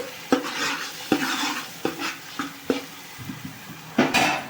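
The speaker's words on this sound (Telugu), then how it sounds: "పసుపు వేసుకుని బాగా కలుపుకుని పచ్చివాసన పోయే వరకు" A spoon scrapes and knocks through onion paste with turmeric in a pan, sharp clacks against the metal every second or so over a low sizzle, close and clear, with no voices.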